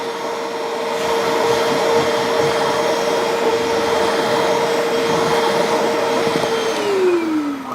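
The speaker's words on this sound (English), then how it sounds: "Okay, I'm just going to use the BISSELL now." A BISSELL Little Green portable carpet and upholstery cleaner runs loudly and close, a constant motor whine with airy suction roar that holds steady before the pitch starts to drop near the end.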